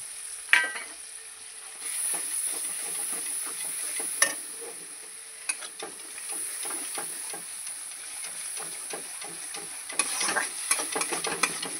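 Rice flour and cashew paste, loosened with a little water, stirred in a pan for a homemade milk and paneer dish, with a steady soft sizzle and repeated scraping strokes of the spoon, close and alone.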